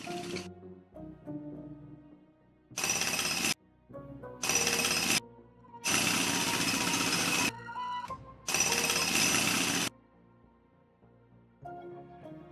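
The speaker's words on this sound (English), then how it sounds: "There was drilling for rebar to be inserted into the face and a considerable amount of hammering." Loud bursts of drilling into concrete for rebar on Kingston, Ontario's La Salle Causeway come in separate blocks of a few seconds each, with quieter gaps between them.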